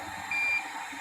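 A single electronic beep, a steady high tone lasting about a quarter second, sounds over a constant background hum with no one talking.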